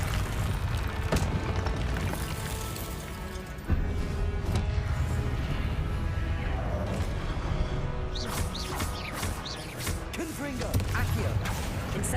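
Spell blasts and fiery explosions crackle and boom in Hogwarts Legacy combat, a continuous loud barrage of magical impacts with creaking mechanisms and shouted incantations over it.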